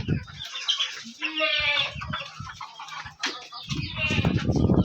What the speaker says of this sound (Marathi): गावरान कोंबड्या